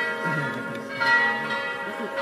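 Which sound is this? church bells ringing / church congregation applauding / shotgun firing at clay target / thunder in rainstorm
church bells ringing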